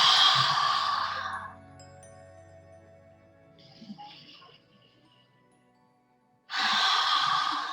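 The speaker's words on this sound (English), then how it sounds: "you inhale by nose, exhale by mouth like this" Slow yoga breathing during a live class, with a long, loud breathy inhale through the nose, a quiet pause, then a strong breathy exhale through the mouth, close to the microphone.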